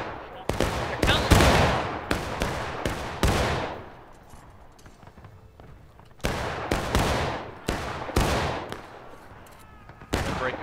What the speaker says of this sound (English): You guys can fire at will.